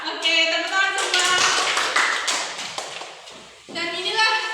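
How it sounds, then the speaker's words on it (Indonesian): Classroom hands clapping during a teaching simulation for a primary school science lesson, a burst of claps that starts near and loud, builds, fades, then gives way to an adult voice talking. "oke, tepuk tangan semua"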